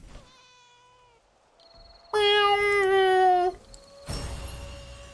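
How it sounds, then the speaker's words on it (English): A convincing cat meow from a countryside duck game, two or three loud, clear game-sound calls in sequence: a thin first meow, then a long, strong, harmonic-rich one, with a chime-like tone between them. "Convincing cat noise."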